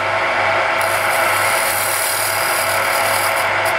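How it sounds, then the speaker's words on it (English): A chisel turned on its side scrapes the edge of a small wooden bead, a steady rasping scrape running close and continuous with no talk. "Turn the chisel on its side. Just scrape that edge off."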